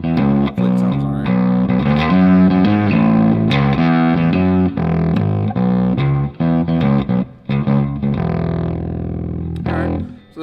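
Bass guitar played through an Earthquaker Devices Blumes distortion pedal in mode 1, a thick, heavily saturated riff of sustained and plucked notes, loud and continuous, with brief gaps toward the end.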